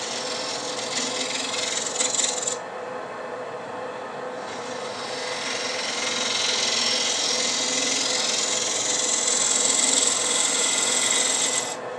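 A negative rake scraper taking light cuts on a cherry burl box turning on a lathe, a continuous close rasping hiss over the motor's hum, swelling louder in the second half.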